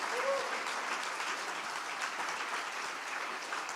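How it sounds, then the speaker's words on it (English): A large audience claps continuously at a live event, a broad, even roar of many hands held at steady loudness from start to finish, with faint crowd murmur beneath. "I want a round of applause."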